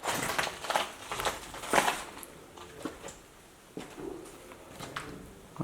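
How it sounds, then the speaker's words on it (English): Footsteps crunch over broken glass and debris inside a decaying abandoned seaside hotel in Ireland, a string of close, crackling steps at an uneven pace with no talk. "Oh, so much broken glass."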